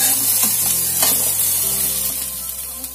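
Potatoes and mixed vegetables stir-fried in a pan sizzle continuously, with repeated scraping and tossing stirs over a low steady background hum.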